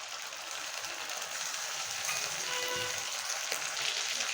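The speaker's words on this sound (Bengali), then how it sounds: "বন্ধুরা তেলটা গরম হয়ে গেছে, এখন আমি তেল দেব।" Ginger paste fries in hot oil in a pan while a goose egg curry is cooked, making a steady, moderately loud sizzle with faint stirring, alone without talk.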